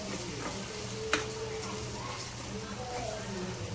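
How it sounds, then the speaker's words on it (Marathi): Coriander powder and homemade black masala fry in hot oil for a rohu fish curry, giving a steady soft sizzle with one sharp clink of a utensil, while someone talks over it. "याला एक मिनिट भर परतून घेऊया म्हणजे त्याला थोडंसं तेल सुटेल आणि तो मसाला पण परतला जाईल"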